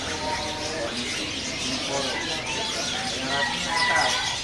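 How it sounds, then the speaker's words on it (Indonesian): Caged birds at a market kiosk, including canaries, chirp and twitter continuously among other bird calls and cooing, a busy layered chorus with someone talking over it throughout. "Di kios ini ada burung kenari lover gacoran."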